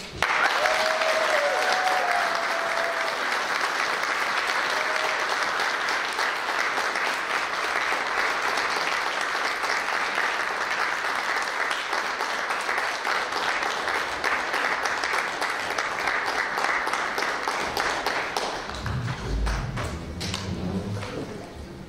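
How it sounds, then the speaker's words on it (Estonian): A concert audience gives long, sustained applause at a wind orchestra's 110th anniversary concert, a thick, even roar of many hands that holds for about twenty seconds before thinning out near the end. "Nüüd ma ootan väga suurt aplausi."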